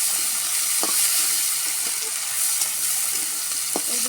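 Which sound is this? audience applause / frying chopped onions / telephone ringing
frying chopped onions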